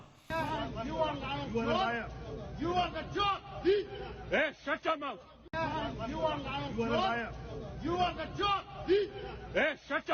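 A crowd at an airport chants and shouts slogans in loud, rhythmic bursts of many voices, with a short break before the chanting picks up again, all close and energetic.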